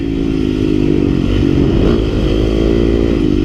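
A Yamaha YZ250FX dirt bike engine runs loud and close, holding a steady, buzzy drone at high revs with a slight surge midway.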